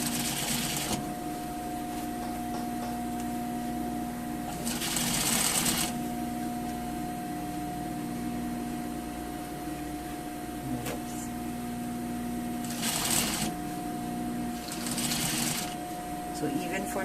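A sewing machine topstitches along the edge of layered fabric with a facing, humming steadily with a constant whine and brief louder bursts of needle chatter. Someone speaks over it at times.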